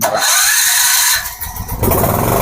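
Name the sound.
gas generator engine starting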